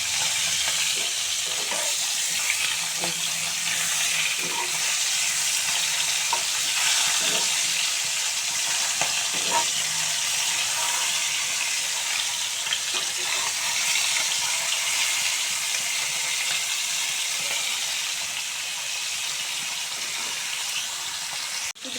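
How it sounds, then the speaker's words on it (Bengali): Pieces of rui fish fry crisp in hot oil in a pan, a loud, continuous hissing sizzle that stays dense and even throughout, with small crackles scattered through it. "এই যে কড়া করে ভাজা হয়ে গেছে সব মাছ"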